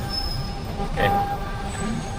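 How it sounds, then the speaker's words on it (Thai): BTS Skytrain arriving at the Siam Square station in Bangkok, a steady rumble of the train with a brief wheel squeal rising over street background. "โอ้รถไฟฟ้ามาทุกคน"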